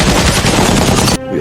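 Loud, dense burst of rapid gunfire, a volley of overlapping shots that cuts off abruptly after about a second.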